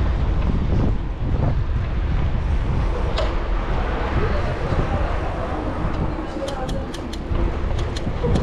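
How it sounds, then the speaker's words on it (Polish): Strong wind buffets the microphone outdoors during a food delivery run, a loud continuous low roar with gusty surges throughout, and a few faint high ticks near the end. "Znowu strasznie wieje."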